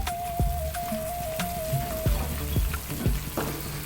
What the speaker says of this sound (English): We can give it a stir every now and then.